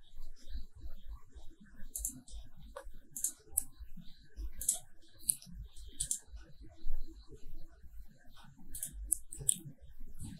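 Crisp computer mouse clicks sound close up while formatting a pen drive, sharp isolated taps scattered at irregular intervals over a low soft background clatter.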